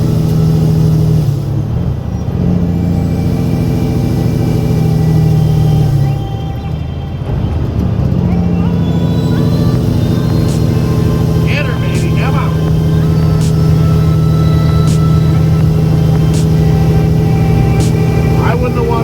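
A dump truck hauling gravel on a two-lane road, its diesel engine droning steadily with rising and falling pitch as it pulls and revs, close by, while a person talks over it.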